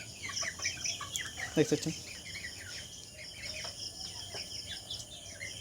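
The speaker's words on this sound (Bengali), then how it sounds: "দেশি মুরগি যেহেতু উঠতে ভালোবাসে, দেখতে পাচ্ছেন।" Desi chickens clucking on a farm, scattered clucks and calls at a moderate distance, with a person talking over them.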